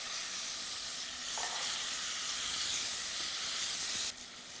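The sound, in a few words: apricots frying in browned butter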